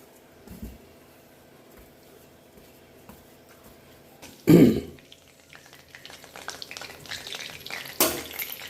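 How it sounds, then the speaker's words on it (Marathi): Cumin and mustard seeds crackle in hot oil with sparse, scattered pops over a quiet background. A louder burst comes midway, followed by busier crackling. "जिरं मोहरी तडतडून द्यायची आहे"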